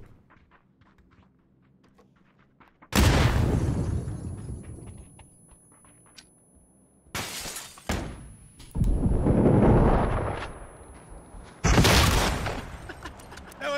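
Blue zone grenade blasts in the PUBG battle royale game: four heavy, close explosions with sharp onsets and rumbling decays, separated by quiet stretches with faint background noise.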